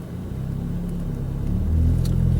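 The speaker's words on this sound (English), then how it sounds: "And double clutch it into low." A manual six-speed car's engine hums low near idle, then rises briefly in a short rev as the driver double clutches into low, a close, steady rumble with no talking.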